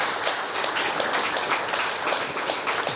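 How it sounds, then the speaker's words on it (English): Audience applause fills the space, a steady dense patter of many hands clapping at even loudness, broad and continuous without a clear peak or fade. "clap it up for that"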